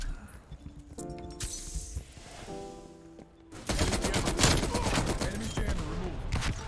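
M60 machine gun fire in Call of Duty Black Ops Cold War, with sustained rapid bursts of automatic shots dominating the second half after quieter game effects and clinks earlier.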